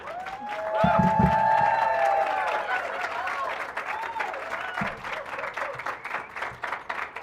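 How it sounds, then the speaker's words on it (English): An audience claps at a university cultural and equity center dedication ceremony, a loud, steady wave of applause swelling early with some whoops, then settling into sustained clapping that continues to the end. "When a student gets up, you have to give the loudest applause you can."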